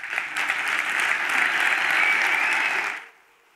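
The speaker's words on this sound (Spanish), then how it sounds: "Aplausos." Audience at a women's award ceremony breaks into a full, even burst of applause lasting about three seconds, then stops abruptly into near silence.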